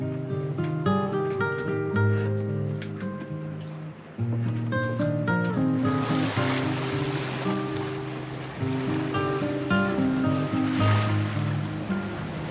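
Open-sea waves wash steadily around a sailboat on a calm, sunny day with light wind, a continuous rushing surf with soft swells and faint creaks of the boat over nearly thirteen seconds.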